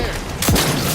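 A single loud, booming gunshot bursts out midway in The Outer Worlds 2, fired into the air, and rings briefly over dense background noise.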